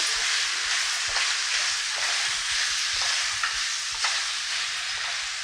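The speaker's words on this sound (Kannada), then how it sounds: "ಇವಾಗ ನೋಡೋಣ ಫ್ರೈ ಆಗ್ತಾ ಬಂತು" Chicken masala frying dry in a pan, giving a continuous close sizzle with a spatula scraping and stirring at a loose rhythm, no voices.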